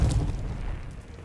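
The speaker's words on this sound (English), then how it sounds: "Throwing grenade." A grenade goes off in the video game Dune Awakening as a short, muffled, low boom that quickly fades, fairly quiet and alone.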